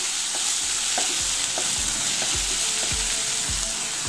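Ginger, garlic, green chilli and salt stirred in a hot pan, a loud continuous sizzle broken by regular scraping strokes of the spoon roughly every half second, with no talking.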